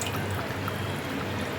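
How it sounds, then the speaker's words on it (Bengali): A cup of water pours steadily into a spice paste for paneer curry, making a continuous close rushing splash with no pauses. "মশলার পেস্টটা দিয়ে তার মধ্যে অ্যাড করব 1 কাপ মতো জল।"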